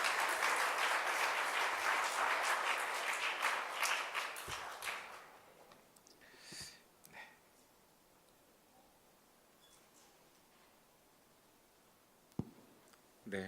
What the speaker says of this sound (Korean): 따뜻한 박수로 환영해 주십시오